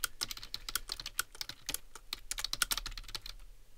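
Fast, steady keystrokes rattle on a computer keyboard during an online typing test, a dense close-up clatter of sharp clicks with brief uneven pauses and no voices.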